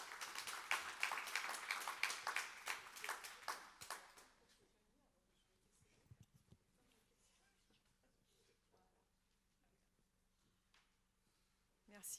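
An audience at a social dialogue event applauds the edition's godfather and godmother with a burst of loud, dense clapping that fades out after about four seconds, followed by quiet room murmur and faint movement.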